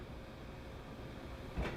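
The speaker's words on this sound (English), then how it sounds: "boom, soft close right there back into the cabinet" A heavy drawer beneath a gas range cooktop in a remodeled kitchen glides shut into its cabinet with a soft-close mechanism, ending in a brief muffled thud over low room noise.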